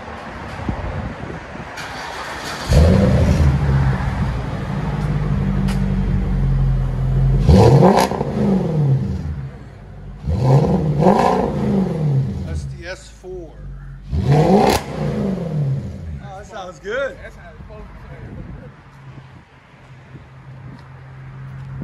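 A 2005 Cadillac STS V8 with dual exhaust and no mufflers revs up in several loud, rising bursts that settle back to a rumbling idle, with people talking in between.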